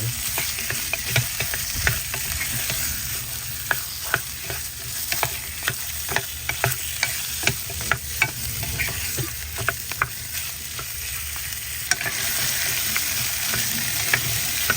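Pork rib tips stir-fried with khua kling curry paste, a close, steady sizzle punctuated by frequent spatula scrapes and taps against the pan in an uneven rhythm.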